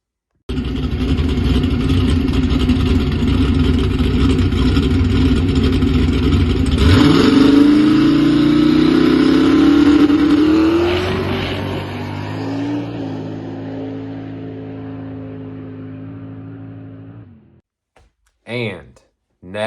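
A fast rear-wheel-drive race car's engine roars loudly and steadily, climbs in pitch as it accelerates hard, then fades away into near silence, followed by a few brief bumps at the end.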